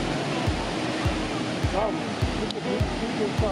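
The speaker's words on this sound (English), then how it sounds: "we started out at the most famous waterfall, which is named the Skradinski Waterfall" Skradinski waterfall in Krka National Park, Croatia, sends up a continuous rushing roar of falling water. A voice talks over it, and regular low thumps recur through the whole stretch.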